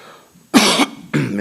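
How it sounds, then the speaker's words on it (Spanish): A hoarse lecturer at a medical presentation coughs twice in quick succession, loud and close to the microphone, with quiet room noise before the first cough. "Me van a disculpar que voy a toser cada cierto tiempo"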